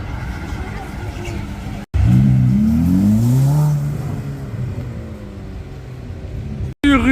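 A yellow Lamborghini Urus SUV with a Mansory body kit and Dubai plates drives past on a Cannes street, its engine note rising as it accelerates and passes close by, with people talking over it.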